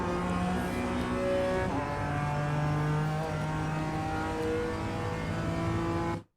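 BMW M4 GT4 race car in iRacing held at full throttle, its engine droning loud and steady with rising pitch through the gears, a brief shift step midway, then cut off abruptly at the end.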